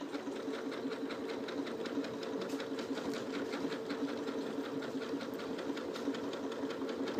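Domestic sewing machine stitching fabric hexagon quilt pieces together, a steady close, fast mechanical whirring with a rapid regular needle rhythm running continuously without pause.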